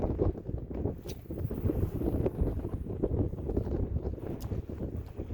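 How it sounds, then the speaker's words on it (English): Strong northwest wind on Oneida Lake, a steady broadband roar with gusty buffeting against the microphone and no voices. "This northwest wind's, it's got to be blowing all of 15, if not a touch more."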